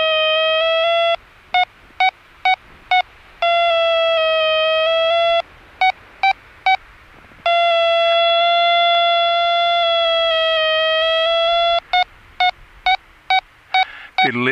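A FrSKY TW GR8 8-channel glider receiver's vario signals rising air with loud electronic tones, alternating quick rapid beep runs and long sustained high tones, clear and close with no talk.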